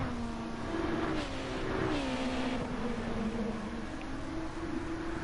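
Honda race cars in a GT racing video game at Watkins Glen, engines droning with a wavering pitch that rises and falls as the cars run close together, at a moderate, steady level.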